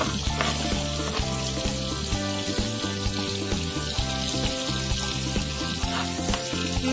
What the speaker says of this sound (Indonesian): Setelah harum, kita masukkan si bawang merah.